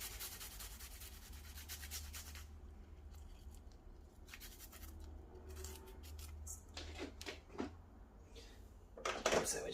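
An ingredient for Greek meatballs (keftedes) is rubbed against a kitchen grater in quick, scratchy strokes that come in bursts, close and fairly quiet.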